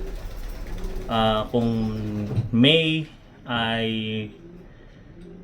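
A few low, throaty cooing calls from a racing pigeon sound close by in short bursts, with a person speaking briefly in between.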